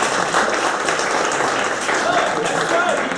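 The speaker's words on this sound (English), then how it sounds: "at least give a round of applause lah" Audience applause forms a sustained, dense roll of clapping at a steady level, with a couple of faint whistles in the later part.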